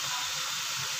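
Peas tipped into a pan of frying vegetables and bell peppers give a steady, close hiss of sizzling oil for a second, with no voices over it.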